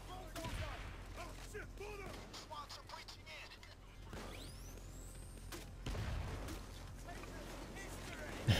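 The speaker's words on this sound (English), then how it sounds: "getting some delay on the grenade explosions" Rapid bursts of distant gunfire and muffled grenade blasts crackle through a Payday 2 game scene, with a sharp whooshing sweep midway and a loud hit at the end.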